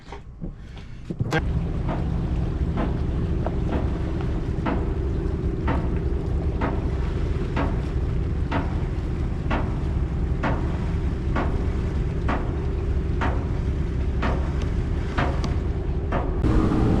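A sailboat motors out of Panama City toward the open ocean, a steady low engine drone with wind rushing past, punctuated by regular soft knocks about once a second, no voices.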